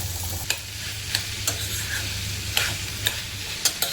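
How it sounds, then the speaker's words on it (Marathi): Onion and snake gourd stir-fry in a pan with a continuous close sizzle, punctuated by sharp periodic clicks of a spatula scraping and tossing the vegetables. "भाजीला परतून घ्यायची."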